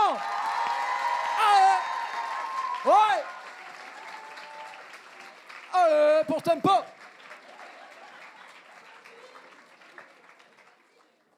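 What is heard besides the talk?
audience applause and cheering for Tempo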